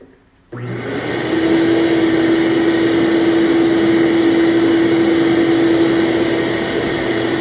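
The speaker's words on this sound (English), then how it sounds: "it's gonna be a little noise from the vacuum" A vacuum cleaner, used while sandblasting rust off metal, starts up abruptly after a brief quiet, then runs loud and steady with a high whine over its airy roar.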